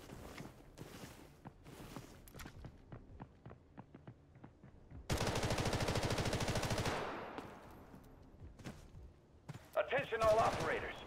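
Gunfire in the shooter Delta Force Hawk Ops: scattered single shots and footsteps, then a loud sustained automatic burst lasting about two seconds, followed by sparse shots and a closing flurry, with a voice briefly heard.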